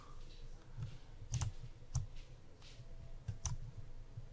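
Computer mouse clicks, a handful of sharp, isolated taps spaced irregularly over a few seconds, close and fairly quiet over a soft background hum, with no talking.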